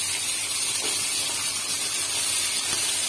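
Radish pieces sautéing in a pan for a radish chutney give off a steady, dense hiss and sizzle with no pauses, close up and fairly loud, with no voices over it.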